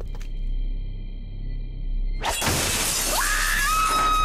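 Glass shatters in a Futurama horror video game: a sudden loud crash of breaking glass after a quiet steady hum, then scattering debris and a rising electronic tone as the noise lingers.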